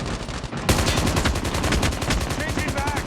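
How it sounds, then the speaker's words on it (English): Rapid automatic gunfire from a weapon fired with the shoot button in Call of Duty: Mobile, a dense sustained burst of loud, close shots after a brief lull, with faint game voices underneath. "I'm just using the shoot button"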